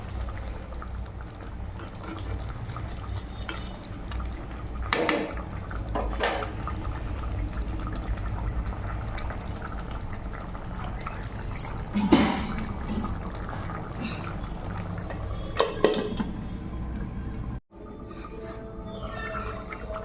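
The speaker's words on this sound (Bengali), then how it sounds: "ঝোলটা এবারে ফুটিয়ে নেব।" Chicken liver gravy bubbles in a pot over low heat, a continuous close watery simmer with occasional louder pops, running for most of the stretch before a brief drop near the end.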